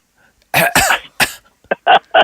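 A voice imitates a rough smoker's cough: a few harsh, gravelly hacks followed by shorter, sharper bursts, close and loud.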